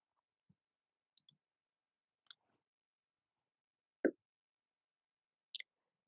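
A computer mouse clicks a handful of times at irregular intervals, each click short and sharp against otherwise near silence, with one slightly louder click in the middle.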